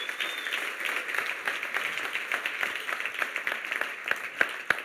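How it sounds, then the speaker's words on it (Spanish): A church congregation claps together in steady applause, moderately distant, with a few sharper nearby claps toward the end. "denle ese aplauso, déselo, Señor."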